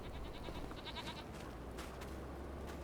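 Goats bleating in the farming game Farming Simulator 25, several short, fairly faint calls repeating over a steady background of ambient farm noise.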